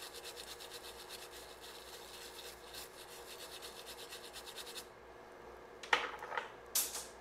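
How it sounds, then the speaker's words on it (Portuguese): A small brush scrubs solder from between connector pins: a steady scratchy rubbing for several seconds, close and faint, then a few sharper brief scrapes, with no voices. "agora você vai passa uma escovinha, tirar a solda que fica entre um pino e outro"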